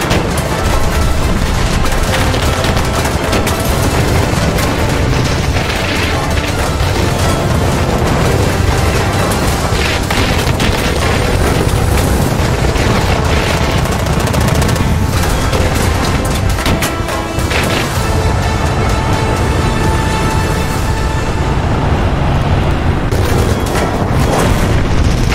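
Relentless rapid anti-aircraft autocannon fire and heavy booms in War Thunder overlap continuously, loud and dense, like a chaotic battlefield of rapid-firing guns and explosions.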